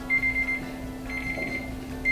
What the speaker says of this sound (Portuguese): O timer.